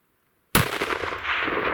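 Sharp, loud single rifle shot fired at a bull elk during a Colorado elk hunt, bursting after a half-second of silence and followed by a long rolling echo and rumble that fills the rest of the moment.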